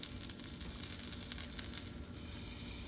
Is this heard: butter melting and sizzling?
yes